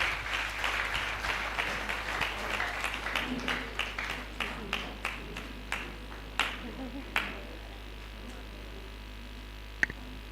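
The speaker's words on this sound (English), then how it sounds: "Let's give our lecturer another round of applause." An audience at a nursing anniversary lecture claps together in a burst of applause that thins to scattered individual claps and fades out, with a single sharp click near the end.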